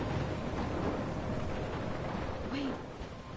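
Dense, roaring wash of heavy rain and storm noise from a thunderstorm in the video game Life is Strange, loud and continuous, fading slightly toward the end.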